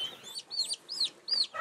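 Chicks in a farm pen peeping, about five shrill, downward-sweeping calls in quick succession, close and clear with no talking.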